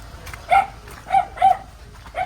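A dog barks four times at a moderate distance, in short, separate yelps against a quiet background.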